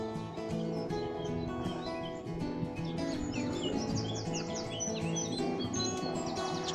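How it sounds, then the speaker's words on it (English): A nightingale sings from shrubbery behind a fence at a Thameside nature park, with varied chirps and trills over a dense background of other birdsong, fairly close. "nightingale is just through this fence in this shrubbery area"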